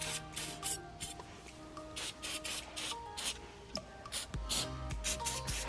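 Battery corrosion preventative sprayed onto the battery of a Subaru Impreza, a series of short hissing bursts with brief pauses between them, close and fairly quiet, no talking.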